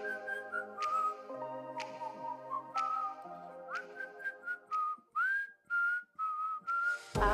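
A whistled pop melody carries over a backing track, the tune moving in short sustained phrases with small slides, clear and close, alone without any talking.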